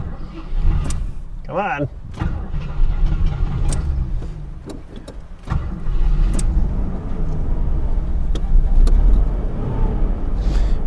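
An old car engine that has not been driven in over twenty years idles and runs roughly with a low rumble while someone tries to drive it, mixed with clunks and mechanical noises, and a voice speaks briefly over it.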